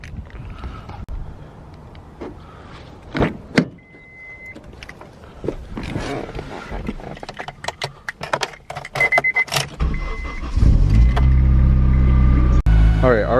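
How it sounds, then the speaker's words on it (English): An Acura RSX DC5 cranks up and settles into a steady close engine drone on a home driveway, preceded by clicks, rustling and door sounds while a person talks. "let me go ahead and start up the car, back it up on my driveway"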